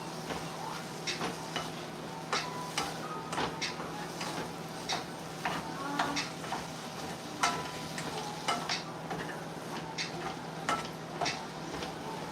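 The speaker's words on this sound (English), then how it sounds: "I'm gonna mix it up again" Food being stirred in a pan on a home stovetop with cauliflower, a steady run of scraping and clicking strokes over a soft background sizzle, close and moderately quiet, with no talking.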